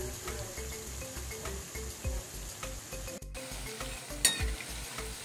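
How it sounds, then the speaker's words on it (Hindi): Lachha pakoras fry in hot oil on a medium flame, giving a steady close sizzle with scattered crackles and a few sharper pops, and no talking over it. "अब धीरे धीरे इस तरह से पकोड़े बनाकर तेल में डालेंगे और इसे मीडियम फ्लेम पर 3 से 4 मिनट जैसा फ्राई करेंगे"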